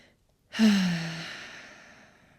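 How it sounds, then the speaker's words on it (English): A single long exhale out through the mouth during a yoga stretch, a breathy sigh that starts suddenly and fades slowly over about two seconds, close and alone. "Exhale out your mouth"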